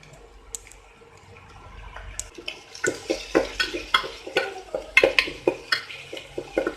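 Onion, crushed ginger, garlic and green chilli are sautéed in a pan for dal khichdi: a quiet sizzle builds into a quick run of loud spatula scrapes and clinks against the metal, close and without talk.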